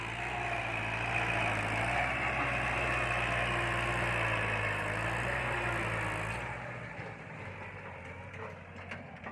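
A Kubota L4708 tractor's four-cylinder engine idles with a steady, close diesel rumble and low throb, then drops off markedly toward the end, leaving quieter outdoor background; no talking.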